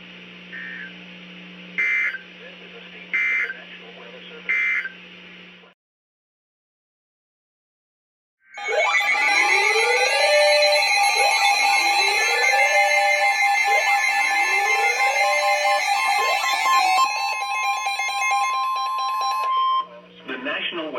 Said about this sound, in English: the warning alarm will only be activated for warnings in selected watches affecting the listening area